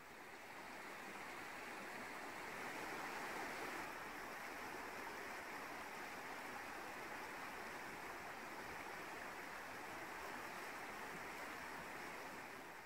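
Water trickles gently down a waterfall stream as a faint, even rushing wash with no pauses or voices.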